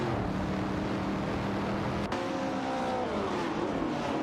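Racing cars in an AI racing game, including a Shelby GT350 and a Porsche 904, roar in a steady engine drone that shifts pitch midway, with a brief click and rising engine tones afterward.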